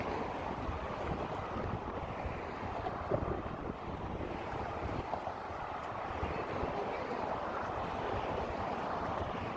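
Wind blowing steadily across an exposed, chilly outdoor spot, a dense broadband rush buffeting the microphone for the whole stretch with small gusting swells and no voices.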